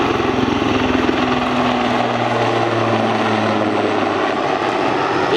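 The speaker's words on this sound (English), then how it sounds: "our 2 pilots will present you the capabilities of this pretty" A Super Puma heavy helicopter flies at an air display, its rotor and turbine roar steady and loud with a continuous chopping throb and faint whining engine tones, no voices.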